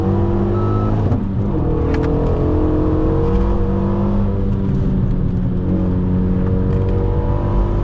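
A Legend GT race car accelerates on a racing circuit, its engine holding a loud, continuous whine that climbs and shifts pitch close up inside the cabin, with no voices.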